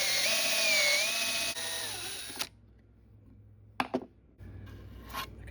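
A cordless drill fitted with a countersinking bit bores a hole, whining loudly and steadily for about two seconds before cutting off, followed by faint clicks and handling sounds.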